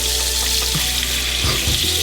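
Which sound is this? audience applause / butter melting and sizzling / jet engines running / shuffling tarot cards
butter melting and sizzling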